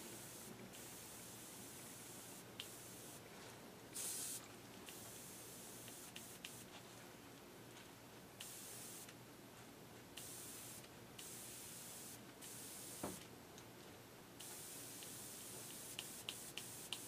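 Air-powered spray gun fed by a shop air hose lays moss green paint through a homemade stencil onto a crawfish-pattern lure: a soft, continuous hiss runs throughout, broken by short pauses and bursts as the trigger is released and pulled again.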